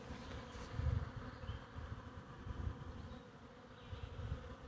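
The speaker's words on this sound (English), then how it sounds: "Look at all these bees." Honey bees buzz steadily around an open hive during a big hatch-out, a dense low drone that swells and fades without a break, close by with no voices.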